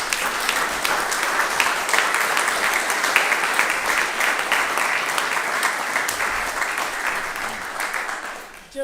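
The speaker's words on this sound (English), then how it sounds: "Another round of applause for these folks." An audience at a local natural resources inventory mapping presentation gives a sustained round of applause, dense clapping close and loud that fades out at the end.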